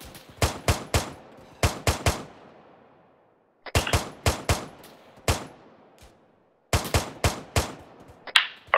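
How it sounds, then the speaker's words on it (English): Automatic gunfire from the ArmA 3 video game crackles in three separate rapid bursts, each a tight cluster of loud, sharp shots with short decaying tails and brief quiet gaps between. "start firing in more conservative bursts"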